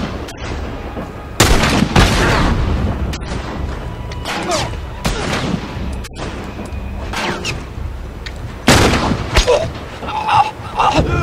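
Heavy gunfire from The Last of Us video game: loud, repeated booming shots and bursts hit close and sharp in irregular clusters, with echoing tails and a few quieter pops between.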